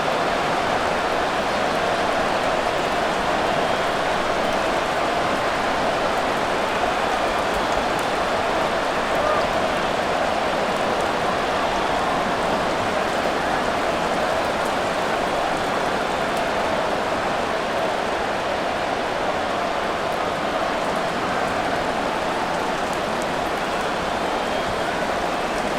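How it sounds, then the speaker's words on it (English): Steady rain falls throughout a rainy-weather Madden NFL 24 simulation between the Pittsburgh Steelers and Miami Dolphins, a dense, even hiss of constant downpour that sits loudly behind the scene without letting up. "The rain set to continue as we are underway in the second half."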